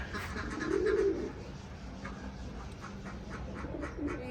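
Pet birds kept in a home coo and call softly and fairly close, with a brief louder coo early on and quieter calls continuing over faint room noise.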